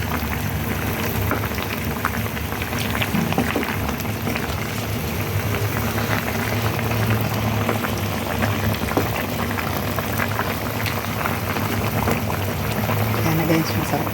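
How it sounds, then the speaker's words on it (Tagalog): Water pours into a pot for salmon sinigang, a continuous rushing, bubbling splash lasting the whole stretch at close range. "Lalagyan ko ng tubig guys."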